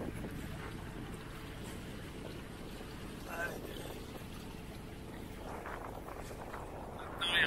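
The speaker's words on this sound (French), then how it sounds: "on restera en moteur." A sailboat's engine drones steadily while motoring through a channel, with wind rushing over the microphone; faint voices murmur in the background.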